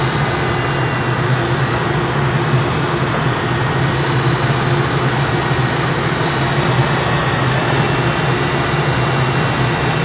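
Inside a glider during a flight, a loud, constant broadband roar of wind and engine rumble holds steady for the full ten seconds, with no voices.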